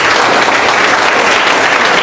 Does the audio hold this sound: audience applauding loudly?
yes